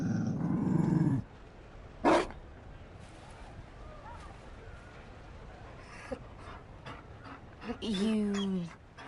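A Mabari war dog in a video game growls low and pants nearby, in a few separate bursts, with some voice-like sounds mixed in.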